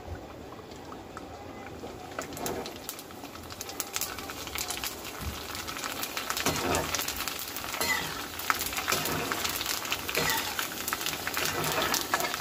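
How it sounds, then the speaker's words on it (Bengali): Fuchka puris fry and puff in hot oil, a continuous bubbling sizzle that grows louder over time, with faint bird calls in the background and no voices. "সবগুলো ফুচকা এভাবে ভেজে নেব"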